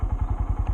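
A 125cc manual motorcycle pulls away in first gear with a low, steady engine putter of rapid regular pulses, close and fairly loud, with no talk over it.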